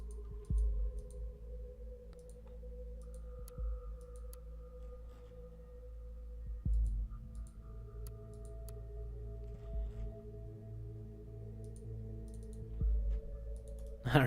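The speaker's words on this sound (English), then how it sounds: "I'm just like clicking on stuff." Computer mouse clicks while playing Orwell, sparse single taps with long quiet gaps, faint and close over a soft sustained musical drone.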